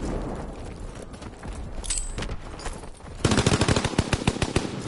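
Heavy automatic gunfire from a PS4 video game, a busy stretch of shooting that bursts into a louder, rapid machine-gun rattle of sharp repeated shots in the second half, with no talking.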